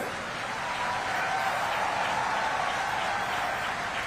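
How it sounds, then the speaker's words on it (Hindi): At a Save Soil awareness event in Bhopal, a large audience claps with raised hands to welcome a guest, producing a continuous, evenly sustained wash of applause with no pauses. "एक बार दोनों हाथ ऊपर उठा के तालियां बजा के स्वागत कीजिए"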